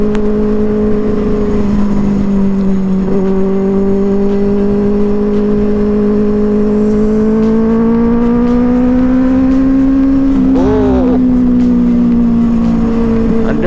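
A motorbike ridden at normal pace through city streets, its engine droning steadily close by with gradual pitch rises as it accelerates, a brief burst of rising whine near the end, and constant road and wind noise throughout.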